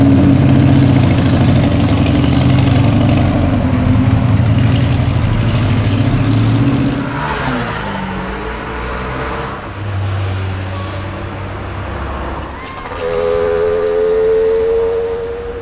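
Loud, continuous engine rumble from nearby vehicles, including Harley-Davidson motorcycles, fills a Lyon street, with idling and passing traffic swelling and fading.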